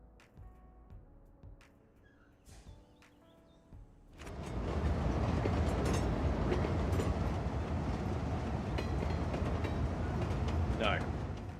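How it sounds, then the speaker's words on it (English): An orange train in the Cities Skylines 2 city-building game rolls past, a loud steady rumble with faint clickety-clack that swells in after a quieter opening with soft clicks and tones. "There is our orange train."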